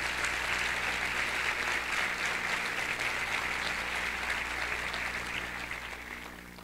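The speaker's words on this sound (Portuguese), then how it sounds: "uma salva de palmas para ela" Audience applause welcoming a speaker at the opening ceremony of an international congress, a sustained, dense crowd clapping that holds steady before tapering off slightly toward the end.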